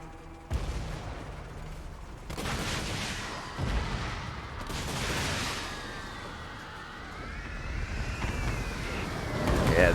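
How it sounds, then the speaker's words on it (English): Cannon and Hellstorm rocket battery fire in a Total War: Warhammer 2 battle, with repeated loud booming blasts and whooshing bursts over a constant roar of battle noise, swelling louder toward the end. "Hellstorm rocket battery! Shoot that great cannon."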